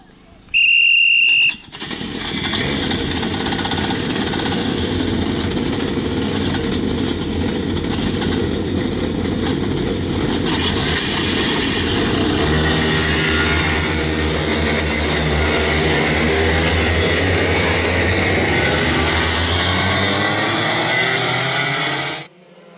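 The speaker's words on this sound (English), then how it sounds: "The engines are on and drivers have started their formation lap." A pack of DRS 125 racing kart engines running together at the start of a formation lap at Little Rissington, a loud, steady buzzing drone that holds throughout before cutting off at the end.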